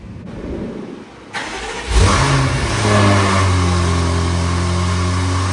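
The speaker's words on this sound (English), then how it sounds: "We are about to do the first start with the primary and secondary downpipes." A BMW F90 M5 V8 fitted with new primary and secondary downpipes cranks and fires up for the first time, surging into a loud, close revving roar that settles into a steady, rumbling idle.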